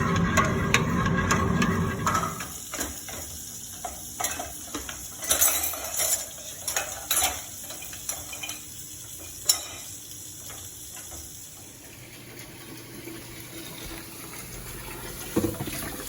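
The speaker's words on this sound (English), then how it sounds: "Make sure you stir the wort." Utensils clink and scrape against a pot while beer wort is stirred, with bubbling and sizzling in the background and a steady hiss throughout.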